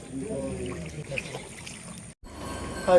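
Rainwater flows and pours into houses in Salema Madiala, a village near Mehdipur, as a steady rushing stream. It is heard close, cuts out for a brief moment, then swells again.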